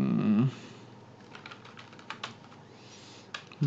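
A search being typed on a computer keyboard: a brief voice at the start, then scattered, light keystroke clicks close by.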